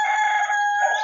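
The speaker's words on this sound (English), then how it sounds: "You can also hear the rooster." A rooster crows at dawn in rural Jamaica, one sustained cock-a-doodle-doo that is clear and fairly close, with no voices around it.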